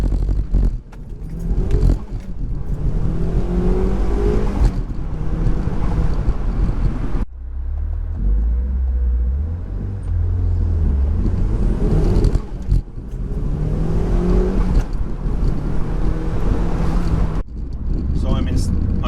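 A turbocharged Mazda MX-5 NC pulls away from a standstill, its engine droning and rising through the gears with a brief lull at a shift, heard from inside the cabin under heavy wind buffeting while the driver talks.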